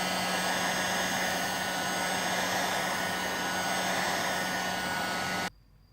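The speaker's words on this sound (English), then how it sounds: "For that, I'm going to use a heat gun because this LCD is already broken" A heat gun blows hot air onto an already broken LCD screen during a J720 screen replacement, giving a steady, close whirring rush with a low hum that runs unchanged and then cuts off abruptly just before the end.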